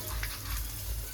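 Green chillies and black cumin seeds splutter in hot oil for a Bengali village-style rohu fish curry with mango, a steady close crackling sizzle with no voices.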